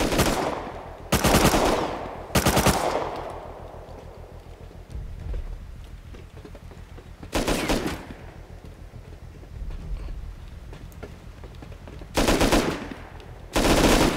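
Bursts of automatic gunfire in the survival video game Rust, several loud rapid volleys spaced a few seconds apart with quieter ambient noise between them; no voices.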